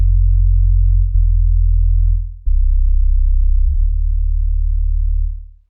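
Sleepy bass sample from a lofi drum pack: deep, smooth sine-like bass notes held one after another, loud and alone, with a short dip between phrases.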